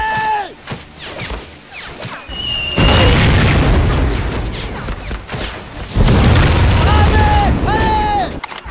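Mortar explosions on a beach battlefield in Medal of Honor: Pacific Assault, two heavy booming blasts with rumbling debris, loud and close, amid shouting soldiers and scattered gunfire.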